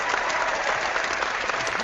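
Dense, steady applause from a crowd, a continuous bright patter of many hands clapping with no pauses.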